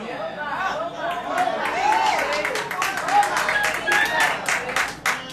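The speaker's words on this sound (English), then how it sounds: "Don't clap for the wrong reason." A church congregation claps and murmurs during a sermon by a pastor, a dense patter of hands mixed with crowd chatter and a few scattered voices, moderately loud throughout.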